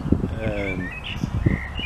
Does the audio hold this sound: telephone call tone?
no